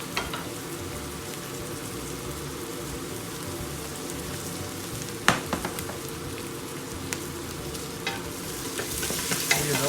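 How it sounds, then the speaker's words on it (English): Onion and garlic frying with spices in a pan for chicken biryani: a steady, dense sizzle with occasional sharp crackles and stirring scrapes, close and continuous, with no voices. "so I'm going to roast all the spice we need for the biryani. So onion, garlic,"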